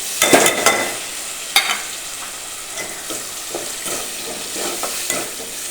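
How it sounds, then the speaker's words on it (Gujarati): Washed ingredients stir-fried in oil in a pan with potatoes and tomatoes, giving a close, steady sizzle broken by several sharp scraping stirs. "તેને પણ બરાબર આમ તેલ સાથે શેકી લેશું"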